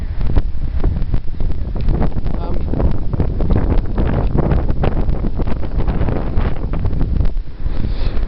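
Strong gusty wind outdoors in a Western New York berry garden, loud buffeting rumble against the microphone throughout.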